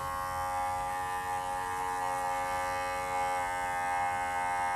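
An electric hair clipper running steadily with its blade dipped in cleaning liquid, a close, even buzzing hum with no voices.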